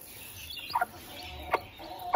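Newly hatched Aseel chick giving a few short, high chirps in quick bursts, fairly close and moderately loud against a quiet background.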